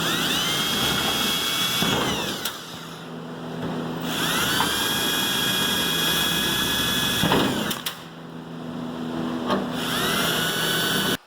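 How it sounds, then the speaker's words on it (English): A high-pitched power drill whines in long, sustained bursts, pausing briefly between runs as it drills out rivets on an airplane. "Now I do need to still go around and drill out all these little ticks."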